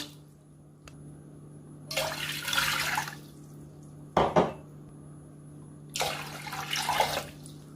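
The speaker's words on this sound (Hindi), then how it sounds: "और इसमें 3 कप पानी के मैं डाल दूँगा।" Three cups of water are poured into a pan for Kashmiri pink tea in two splashing bursts, separated by a sharp metallic clank of the cup against the pan, heard close in a quiet kitchen.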